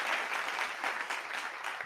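Steady applause from a crowd claps continuously for a couple of seconds, even and fairly close, with a faint voice underneath.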